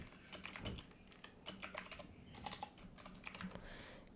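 Typing on a computer keyboard while entering a WordPress maintenance page headline, with irregular bursts of close key clatter and brief pauses between words.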